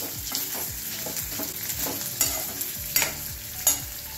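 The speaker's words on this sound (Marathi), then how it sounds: "बटाटे तळून घेऊया।" Boiled, peeled and cut potatoes shallow-frying in oil over a medium flame, a continuous close sizzle broken by repeated spatula taps and a few sharper clinks, with no talking.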